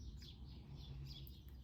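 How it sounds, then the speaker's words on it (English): Birds chirp and call outside, a busy scatter of faint high tweets running steadily over a constant low background hum, with no one talking. "I hope you can hear the birds out there. They're just really going at it."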